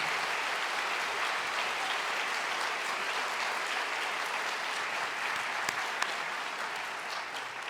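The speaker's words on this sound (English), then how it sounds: "Please help me give them a round of applause and welcome already." A large audience at an MBA graduation ceremony applauds steadily and loudly, a dense continuous wash of clapping that holds throughout and tapers slightly at the end.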